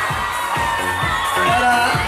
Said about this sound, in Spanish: Un aplauso para Ariana.